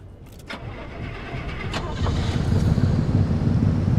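In the video game Pacific Drive, a struggling car engine cranks and catches, starting with a few sharp clicks and then rising into a loud, rough idle rumble that grows louder, with no talking.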